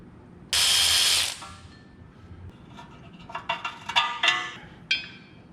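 A ratchet works on the speed sensor in the front hub of a Dodge Ram 2500 axle: a long buzzing burst of clicks, then a series of sharp, close metallic clicks and ratcheting strokes in quick uneven succession.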